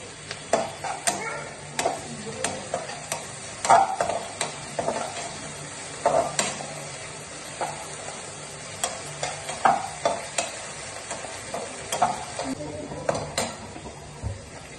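Ginger garlic paste fries in a pan for a pasta dish, a soft sizzle running underneath as a spoon scrapes and stirs in repeated close, sharp strokes.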